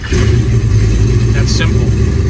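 A 1967 Chevrolet Chevelle with a 383 V8 and EFI starts up, then settles into a loud, close, rumbling idle that runs steadily to the end.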